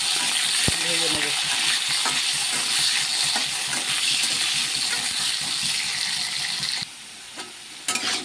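Small diced potatoes fry in hot oil in a pan, a loud, steady sizzle with occasional stirring clinks, continuing close-up before easing slightly near the end.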